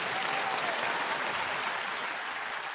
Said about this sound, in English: Just hit that applause button, brother.